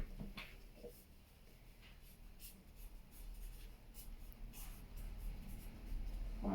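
A Neuland Fine One marker with a 1 mm tip writes small lettering, making soft, brief squeaky strokes in short bursts against a quiet background.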